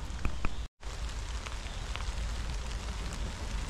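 Rain falls steadily in a spring forest, a soft, even patter of drops on leaves and ground with a few sharper drips close by.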